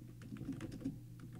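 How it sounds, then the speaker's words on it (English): A short run of close computer keyboard typing, soft rapid keystrokes over a low steady hum, with no one speaking. "I'm just going to type circle at the top"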